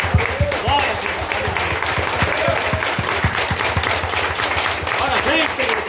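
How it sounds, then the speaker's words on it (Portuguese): A church congregation claps in steady rapid applause, with voices mixed in throughout. "Aplaudir Jesus."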